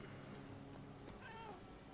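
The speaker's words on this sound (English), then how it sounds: "Did I hear a cat?" A cat meows faintly in the Murdered: Soul Suspect video game, a few short, high, wavering calls around the middle of the clip over a steady bed of game ambience.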